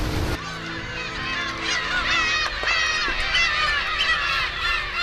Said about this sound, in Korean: 모인도의 정적을 깨는 것은 새들의 울음소리다.